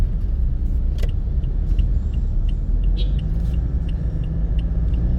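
Road traffic with trucks in Davao City: a continuous close engine rumble and tyre roar with a few light clicks and rattles over it, and no talking.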